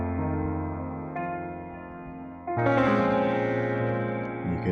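A vocal in a music mix carries added distortion for grit and presence, sustained and layered with echoey effects, and grows louder and brighter partway through.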